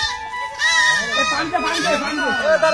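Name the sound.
goat bleating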